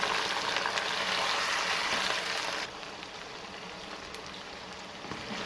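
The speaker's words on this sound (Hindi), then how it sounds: "चिकन हमारा अच्छे से फ्राई हो गया है" Steady sizzling and frying of chicken in a hot pan, a dense crackling hiss that drops slightly in level halfway through, with no talking.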